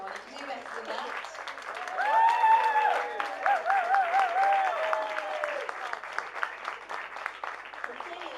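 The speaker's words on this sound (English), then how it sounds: "Give them a big round of applause." Wedding guests give a steady round of applause in a reception setting, dense clapping that swells in the middle while a voice calls out over it, with the whole crowd sustaining the sound throughout.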